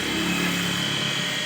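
A water pump motor runs after a bearing replacement, giving a steady, even hum with a smooth whir, close and continuous throughout, with no voices.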